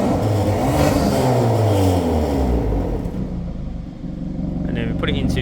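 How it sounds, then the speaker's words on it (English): A 272 bhp Hyundai i30N Performance engine revving in normal mode, loud and close, with rising and falling engine tones sweeping up then settling back toward idle, while a voice talks over it. "we're going to do some revs in the normal mode first"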